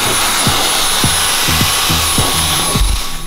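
Vacuum cleaner with a narrow attachment working the interior of a 2019 Toyota Rav4 XSE Hybrid, a loud steady whine with repeated bumps and knocks as the nozzle moves.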